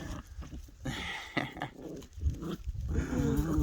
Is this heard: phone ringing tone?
no